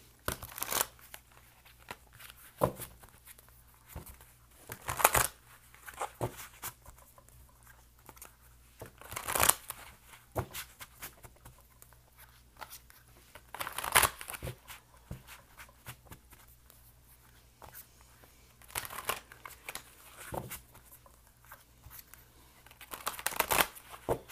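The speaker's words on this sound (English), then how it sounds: "I'm going to go ahead and shuffle for a general reading here" Repeated papery riffling bursts of a tarot card deck being shuffled, close up, with quiet gaps between rounds and no talking.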